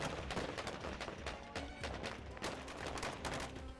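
Iraqi troops fire guns at a spy drone, a dense fusillade of overlapping gunshots crackling in rapid irregular bursts, distant and faint but continuous across the whole stretch.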